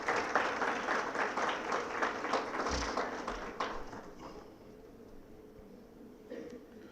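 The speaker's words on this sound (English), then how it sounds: "Can we have a round of applause for Dr." Applause from the audience at an education retreat, a dense crowd clapping that holds steady for about four seconds and then thins into scattered claps.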